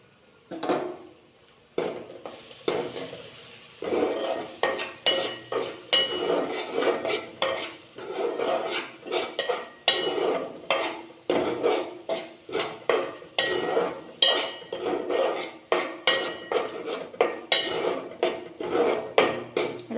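A utensil stirs turmeric, salt and chili powder in a pan with steady, rhythmic scraping strokes, each one clear and close, repeating evenly with a faint sizzle underneath.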